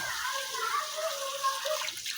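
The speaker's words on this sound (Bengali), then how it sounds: "এর মধ্যে দিয়ে দিচ্ছি সিদ্ধ হওয়ার মতো পানি।" Water poured into a pot of country chicken curry with chilli makes a continuous, close, gentle pouring and splashing sound with a bubbling undertone, heard alone.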